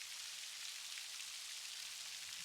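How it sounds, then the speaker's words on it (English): Steady rain falls across a rainforest as an even, soft hiss of many drops, continuous and fairly quiet, with no voices. "Imagine the raindrops gradually becoming softer, like a gentle lullaby."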